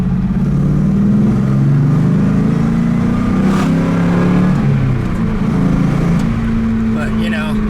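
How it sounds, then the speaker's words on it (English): Engine of a 4th-generation Pontiac Firebird Trans Am running loud and steady with a whining power steering pump, the drone rising and falling slightly under continuous talking. "Sounds like the power steering's whining again too."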